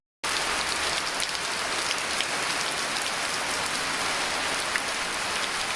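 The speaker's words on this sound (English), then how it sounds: "We've just had a couple of days of really torrential rain." Torrential rain pouring steadily and loudly on surfaces in Sydney, a dense unbroken hiss close by with no voices.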